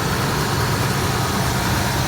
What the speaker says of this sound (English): Man, what a smooth running engine.